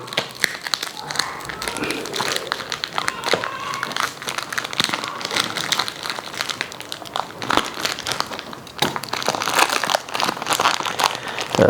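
Polythene plastic wrapping crinkles and rustles loudly and continuously at close range as a gift sent from Khajuraho is unpacked by hand, with dense crackling bursts throughout.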